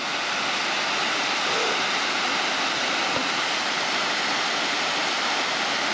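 Creek water rushes steadily over a creek crossing on the Gibb River Road in the Kimberley, a loud, continuous broadband roar close by with no talk over it.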